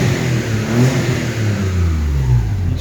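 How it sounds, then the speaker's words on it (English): An Alfa Romeo GTV, just fitted with a new oil cooler and running again after 11 years, revs up close from its engine and exhaust, with a steady, loud mid-pitched drone that swells and eases without a break. "let's give you a rev so you can hear the exhaust and the engine note"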